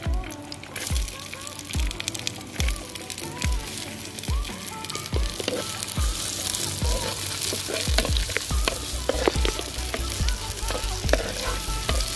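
Onions fried in hot oil in a pan hiss and crackle steadily, with a rhythmic series of knocking stirs from a utensil against the pan, close up, and a voice talking intermittently over it.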